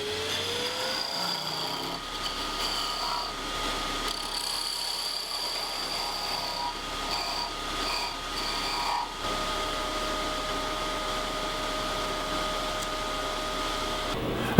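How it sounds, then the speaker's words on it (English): Wood lathe spinning at 2000 rpm while turning a segmented wooden Christmas ornament, a steady mechanical hum with high tonal whine running continuously, moderately close, with no talk. "I'm going to turn the lathe speed back up to 2000"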